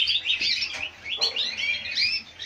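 Small cage birds, including yellow and green finch-type birds, chirp and tweet continuously in an indoor aviary cage, with busy overlapping high calls close by.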